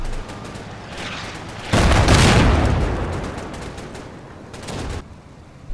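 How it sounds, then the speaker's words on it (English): Mortar fire in the WWII war game Combat Mission Final Blitzkrieg, with troops taking cover at a crossroads: a loud, sustained rumble of blasts and crackling gunfire that swells into a heavy barrage, then eases back into a dense background roar. "the men take cover under mortar fire"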